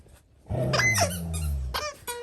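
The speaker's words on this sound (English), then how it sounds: "Nala's a sucker for a squeak toy" A puppy plays with a squeak toy: a sharp squeak followed by a low playful growl, then more quick squeaks, loud and close.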